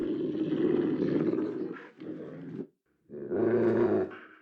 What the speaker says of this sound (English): We added some dog sounds, some growls.